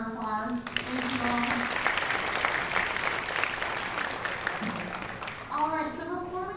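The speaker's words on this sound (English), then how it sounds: "One more round of applause." Audience applause at a university welcome event: steady clapping from a crowd filling the whole stretch, with someone speaking over it at the start and end.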